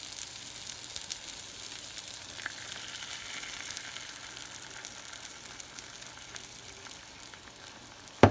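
Shredded cheese sizzles in a hot frying pan for an egg and cheese breakfast, a steady soft crackling hiss throughout, ending in a brief sharp clatter.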